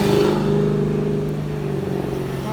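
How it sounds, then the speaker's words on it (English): A Mercedes AMG with a throaty exhaust drives by in Stillwater, Minnesota traffic, its deep engine rumble loud at first and easing slightly as it passes. "Mercedes with a throaty exhaust. I think that was an AMG."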